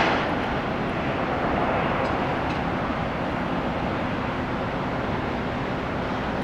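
Embraer Legacy business jet at Tampa airport, a loud, steady engine roar holding unchanged throughout, heard alone with no voices.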